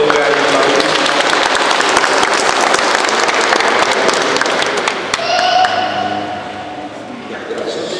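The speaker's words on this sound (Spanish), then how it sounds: "demos gran aplauso para nuevos esposos, Dominga y Pablo." Applause for a newly married couple at a wedding in Pampas, Tayacaja, dense steady clapping for several seconds that thins out toward the end, with voices mixed in.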